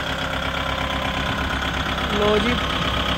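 A Kubota MU5502 4WD tractor engine runs as the tractor turns, a steady, loud diesel drone with a low knocking rumble beneath someone talking.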